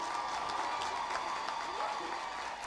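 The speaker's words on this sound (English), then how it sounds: "They deserve a very hearty round of applause." An audience at a university graduation ceremony applauds a choir, a soft, steady patter of many hands heard from a distance.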